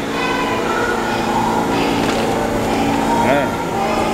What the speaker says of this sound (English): we on the train right now